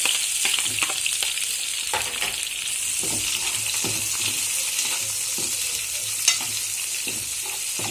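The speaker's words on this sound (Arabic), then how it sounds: "هنحمر البصلة مع بعض، ننزل كده." Onion fries in a pan as it is stirred, giving a loud, steady sizzle with frequent scraping and clattering strokes of the spoon throughout.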